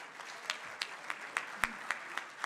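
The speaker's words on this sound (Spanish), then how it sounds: "el doctor Luis Shecker, para el que pido un aplauso" Sparse applause from the audience at a Central American and Caribbean tourism development forum, a few scattered claps, faint and distant.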